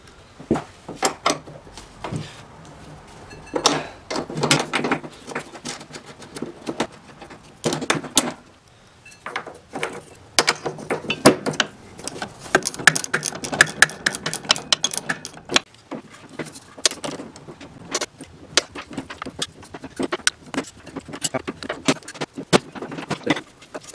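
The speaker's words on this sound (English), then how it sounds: "Now we're gonna go for these four bolts." Bolts come off a vintage snowmobile motor in a workshop, with close metallic clinks, taps and rattles of tools and parts in irregular clusters over a quiet background.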